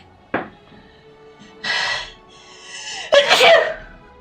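A single sharp sneeze bursts out close by after a small click and a softer breathy sound, standing alone against a quiet room.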